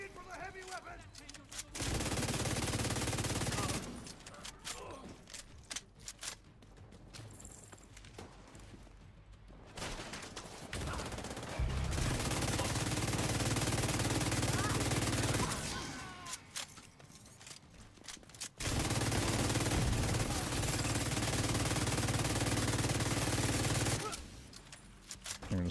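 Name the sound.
gunfire in a video game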